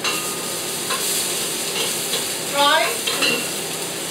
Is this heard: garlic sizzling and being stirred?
yes